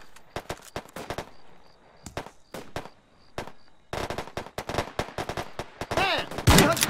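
Gunfire in the military shooter Arma 3 cracks out in sharp rifle shots and rapid bursts, loud and near, separated by short pauses and then bunching into a dense volley at the end, with no talk over it.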